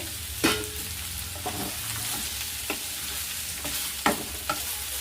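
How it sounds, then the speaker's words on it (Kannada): Raw green peas tossed into a hot pan of vegetable fried rice, sizzling steadily with a few sharp scraping stirs of the spatula, close and fairly quiet with no talking. "ಈಗ ಹಸಿ ಬಟಾಣಿ ಹಾಕೋತೀನಿ."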